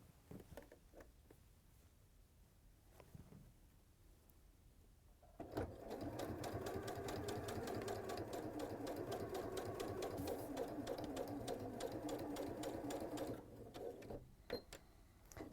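A sewing machine stitches seams to join fabric halves into a complete circle, starting after about five seconds of quiet with a steady, rapid mechanical chatter that runs for several seconds before stopping, with a few faint knocks around it.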